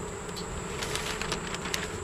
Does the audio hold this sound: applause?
no